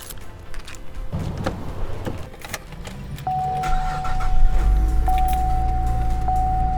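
A Cadillac CTS cranks with a starter whir, then its engine catches and settles into a steady, fairly loud idle close by, with a thin whine running over the hum.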